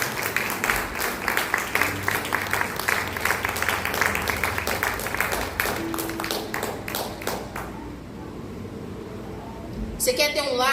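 A church congregation gives dense, sustained clapping that fills most of the stretch, then thins and fades into quiet room sound near the end.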